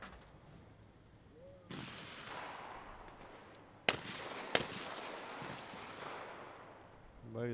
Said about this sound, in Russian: Борис Борисов второй выстрел забирает мишень.